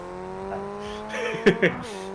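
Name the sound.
Ray FF1600 race car driving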